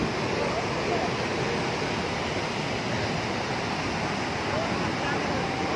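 Heavy water rushing through opened dam spillway gates after heavy rain, a loud, continuous broadband roar that stays steady and close throughout, with no break and nothing else standing out.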